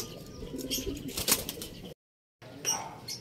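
Racing pigeons at a loft coo softly near the listener, with bursts of flapping wings and a brief dropout of silence before more wingbeats and faint calls resume.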